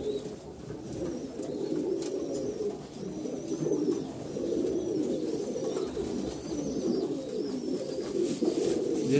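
Many pigeons cooing together in a fancy pigeon loft on a farm, a steady overlapping chorus of low throaty coos close to the listener, with faint chirps and rustling above it and no voices.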